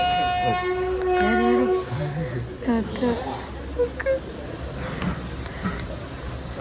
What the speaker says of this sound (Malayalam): നമ്മുടെ ട്രെയിൻ വന്നു